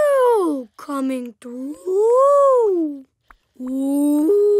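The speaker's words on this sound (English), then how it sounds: "I hear a humpback whale singing!" A cartoon-style humpback whale song of long, sweeping, rising and falling moans, loud and close, with short gaps between phrases.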